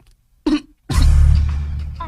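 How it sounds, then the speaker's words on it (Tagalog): A short throat-clearing burst followed by a longer, harsh, rasping cough, both close and loud, separated by a brief silence. "di ubo ka?"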